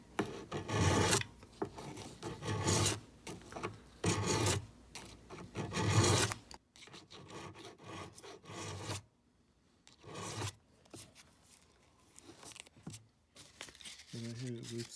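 A file works the fret edges of a Harmony H180 acoustic guitar in repeated rasping strokes, loud and rhythmic at first, then lighter and more scattered, with someone talking between the strokes.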